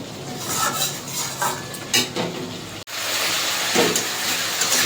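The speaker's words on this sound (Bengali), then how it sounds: "ঢাকনাটা তুলে একটুখানি কষাতে নেড়ে দেবো" Spice masala frying in oil for a catla fish and turnip dish, stirred with a spoon: steady close sizzle with scraping strokes, a brief break near the middle, then continued hissing.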